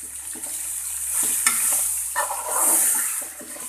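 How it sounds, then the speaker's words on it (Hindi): Onions with spices fry in oil for achari bhindi, giving a steady close hiss and sizzle with soft stirring scrapes and a few sharper pops throughout, no voices. "इन्हें 2 मिनट के लिए अच्छे से भूनेंगे।"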